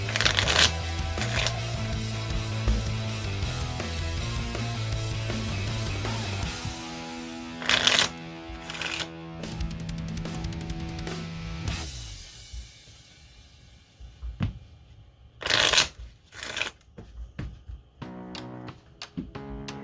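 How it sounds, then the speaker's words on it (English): Minecraft Explorers landscape cards being shuffled by hand on a table, a run of riffling card sounds in bursts with quieter handling and taps in between, close and alone with no talk. "Shuffle up our landscape cards."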